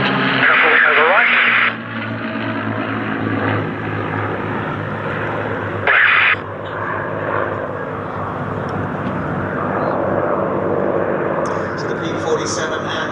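Propeller warbirds, a P-47 and two Buchóns, landing and taxiing at an airshow at Sywell, engines droning steadily at a distance beneath loud radio chatter.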